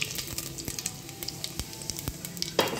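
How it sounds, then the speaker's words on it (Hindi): Cumin and asafoetida sizzling in hot desi ghee for plain khichdi, a soft continuous fry hiss dotted with small crackles and pops, close and fairly quiet. "अब मैं इसमें डाल रही हूँ जीरा"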